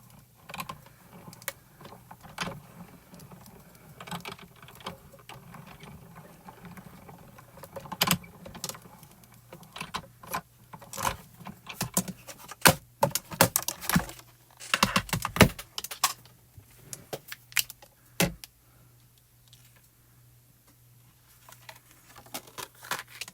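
Scattered mechanical clicks and creaks from a squeaky hand-cranked die cutting machine, with irregular bursts of clattering that grow busier midway, close by and with no voices.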